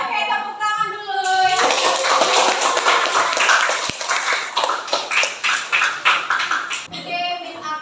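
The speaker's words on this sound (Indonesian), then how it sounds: "Oke, tepuk tangan dulu." A class of children claps their hands together for several seconds, a dense, lively burst of rapid slaps. Young voices can be heard just before and after.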